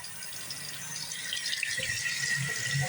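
Water runs steadily from a tap into a sink, a continuous close hiss and splatter that grows slightly fuller toward the end as something moves under the stream. No one speaks.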